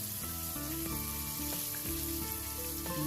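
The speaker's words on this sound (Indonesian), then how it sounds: "Nah lanjutkan menggoreng semuanya sampai selesai." Crispy curly fried chicken sizzles steadily in hot oil, with a dense continuous crackle and occasional louder pops, close up and with no talking.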